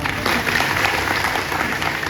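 An audience at a kirtan bursts into applause, a dense, steady roar of many hands clapping at full volume for the whole moment.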